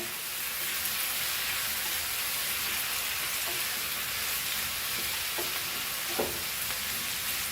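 Prawns dropped onto fried onions over a high flame give a steady, dense sizzle that holds at an even level, close to the pan, with a few faint clinks of stirring and no voices.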